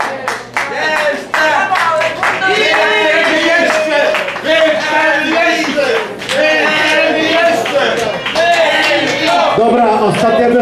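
Audience clapping for a performer at a cabaret club concert, dense and steady hand claps with crowd noise running throughout, loud and close.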